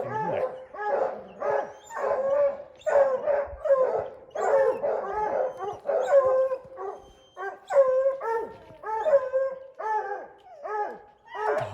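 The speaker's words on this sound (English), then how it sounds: "Dog's up the tree." Hunting dogs bay at a mountain lion up a tree on a ranch hunt, a steady rhythmic chorus of barks and drawn-out howls from a few animals close by, continuing without pause.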